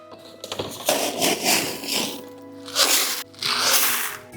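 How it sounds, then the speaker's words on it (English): Couple of scoops of gravel tipped into a shrimp tank as a base layer, giving rough crunching, rattling pours in separate bursts, close and fairly loud, with no talk. "We've got a nice little gravel here. So I'm going to do like a couple of scoops of that."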